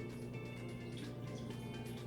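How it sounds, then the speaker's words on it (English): Coconut water poured into a smoothie blender, a faint, steady liquid trickle and splash heard close up over a low electrical hum. "now I'm going to put a little bit of coconut water into the smoothie machine"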